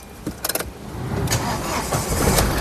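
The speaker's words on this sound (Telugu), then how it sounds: "సింగిల్ సెల్ఫ్లో కార్ స్టార్ట్ అవుతుంది" A 2017-18 Tata Hexa XM car engine starts on a single turn of the starter: a few quick cranking bursts, then the engine catches and settles into a steady idle rumble, close up.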